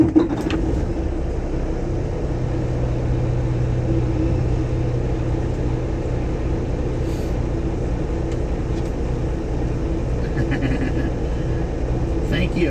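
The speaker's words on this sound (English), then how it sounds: "Let me start this truck up," Truck engine running at idle inside the cab during a railfan ride-along in Schuyler, Nebraska, a steady low rumble that holds throughout with no clear starting crank.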